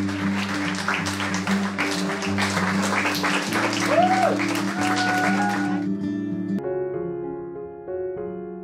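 Guests applaud at a wedding ceremony just after the couple is pronounced man and wife. Clapping runs beneath loud sustained music that swells and then settles into softer piano-like tones as the applause stops.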